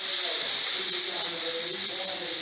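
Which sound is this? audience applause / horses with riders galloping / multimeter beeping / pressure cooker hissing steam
pressure cooker hissing steam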